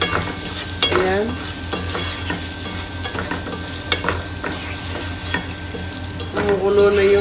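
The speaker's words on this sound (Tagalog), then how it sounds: "Kumukulo na yung atay guys." Chicken liver adobo with egg and potatoes simmering in a pan, a steady sizzling and bubbling with occasional scrapes and stirring clatter throughout.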